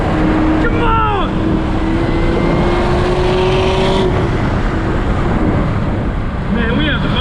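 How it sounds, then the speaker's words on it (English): A cheap old Ford Mustang at a racetrack, revved hard toward redline while sitting in neutral, makes a loud, sustained engine roar that holds steady throughout, with voices briefly audible over it. "My car's not even in gear and I'm giving it gas. Just sitting here redlining it."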